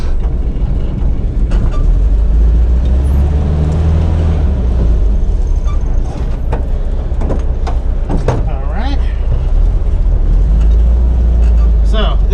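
An old, high-mileage 1961 Volkswagen bus with manual transmission drives along, its low engine rumble steady and close with mechanical clunks and rattles, while someone talks over it.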